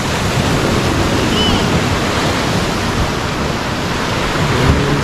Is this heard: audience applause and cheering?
no